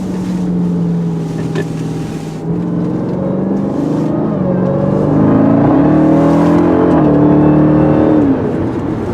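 A Jeep Grand Cherokee TrackHawk engine accelerates hard, its loud, close note climbing steadily in pitch over several seconds and briefly dipping between gears.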